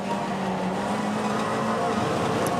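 A Mini racing car on track at Goodwood, heard from on board as a loud, continuous engine roar with a shifting pitch as the driver changes down into second gear.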